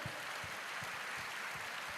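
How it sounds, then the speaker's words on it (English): An audience at a school's silver jubilee celebration claps for the children, a steady wash of applause at moderate distance with a soft regular low thump pulsing beneath it. "I think we'll give another round of applause to our children"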